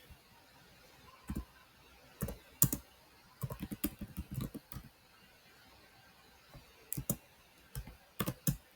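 A username and password being typed on a computer keyboard: scattered quiet bursts of key clicks with pauses between them, close and soft.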